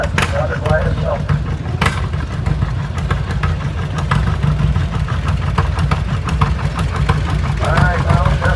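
A John Deere A tractor runs in a parade at a national Oliver tractor show, its steady, loud engine chugging throughout over outdoor crowd noise, with a voice speaking over it.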